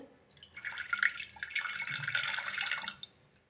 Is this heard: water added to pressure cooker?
yes